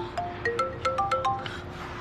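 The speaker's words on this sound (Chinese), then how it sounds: "来电话了，怎么办？" A mobile phone rings with an incoming call, playing a bright melodic ringtone of quick separate notes, moderately loud over a quiet room.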